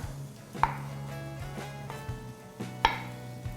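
Soft knife cuts on a board as a peeled banana is cut into four pieces, a few irregular thuds with two sharper taps, close and quiet over a low background hum.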